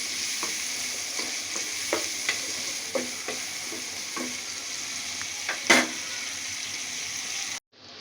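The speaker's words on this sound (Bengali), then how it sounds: "এখন আমি পেঁয়াজ কুচিটাকে ভালো করে ভেজে নিব" Chopped onion frying in a pan for a beef and potato curry, with a steady close sizzle and periodic spatula scrapes and stirs throughout before it cuts off abruptly at the end.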